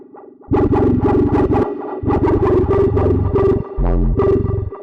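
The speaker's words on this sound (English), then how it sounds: "this ARP command here is so cool for creating interesting little glitches" Glitchy, distorted bass from an M8 tracker using its arpeggio command, pulsing in fast stuttering bursts with brief gaps and a heavy low end, loud and alone.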